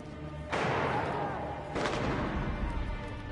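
Two heavy gunshot booms in the video game Unknown 9: Awakening land about a second apart, each followed by a long rumbling decay over constant background noise.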